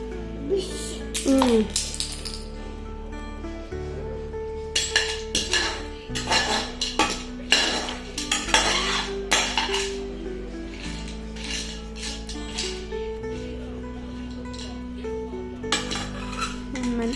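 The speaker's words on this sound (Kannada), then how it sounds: "ಮನೇಲಿರೋ ಪಾತ್ರೆ ಸಾಮಾನು ಜೊತೆ ಆಟ ಆಡೋದು ಅಂದರೆ ಅದೇನು ಖುಷಿನೋ ಗೊತ್ತಿಲ್ಲ" A young boy bangs and clinks household steel pots, pans and spoons in pretend cooking play, a busy run of metallic clatters and scrapes at close range, with a voice and an adult speaking now and then.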